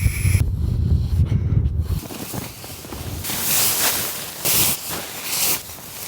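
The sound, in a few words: strong wind gusts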